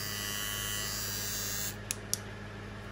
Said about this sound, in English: This is the run test of the Kemei 1971.